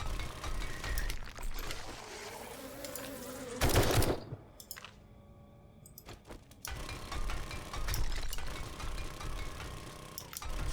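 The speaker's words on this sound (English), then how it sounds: "Figured out that one well-placed shot will take care of those bees." Bees buzzing in the survival game 7 Days to Die, a steady whirring drone that rises loud for a moment, drops away, then returns under continuous game noise.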